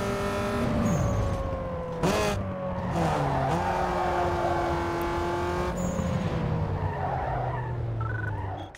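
A race car in a Need for Speed Underground 2 sprint race, its engine droning steadily at high revs and shifting pitch. Tires squeal and skid through the corners, with a couple of sharp knocks along the way.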